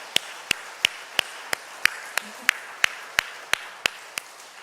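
Slow, evenly spaced single claps, about three per second, sharp and moderately close, from a church congregation applauding the choir and string ensemble during a Sunday morning worship service.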